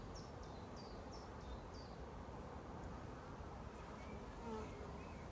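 A continuous buzz of honeybees humming around close by on an urban farm, with a few bird chirps early on and outdoor ambience underneath.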